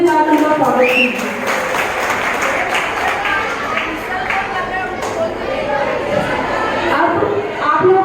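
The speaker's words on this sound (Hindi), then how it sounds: "एक बार जोरदार तालियों के साथ उनका स्वागत कीजिए।" Students at a school farewell party get loud applause from a hall full of people, clapping rising and falling unevenly with voices and chatter mixed in throughout.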